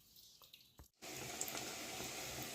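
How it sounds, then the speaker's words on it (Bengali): Eggs scrubbed clean with a Scotch-Brite pad under running tap water: after a brief near-silent start, a steady, full stream of water splashes continuously for the rest of the moment, with no talking. "ডিমগুলো ভালো করে আমি এইভাবে স্কচ ব্রাইট দিয়ে রোগড়ে একেবারে ধুয়ে রাখি"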